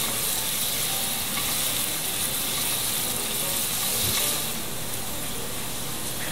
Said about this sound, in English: Now I'm adding in my pancetta, and I'm going to let this go for about 3 minutes, keeping my eye on it. I want this to crisp up.